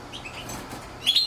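Small caged canaries and goldfinches give a brief burst of high, thin chirps near the end, over a soft, steady room hiss.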